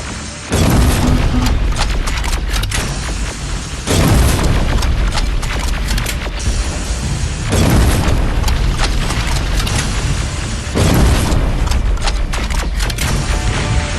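Loud booming explosions and heavy gunfire from a Terminator: Resistance shooter game as a T-47 machine is destroyed, with repeated blasts sustained across the whole stretch.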